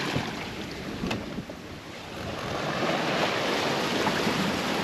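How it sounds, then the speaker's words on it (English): Ocean swells wash steadily around a sailboat running dead downwind under sail off Antigua, engine off, with constant broadband water rush and wind noise, fairly loud and even, swelling slightly toward the end. "Got some ocean swells,"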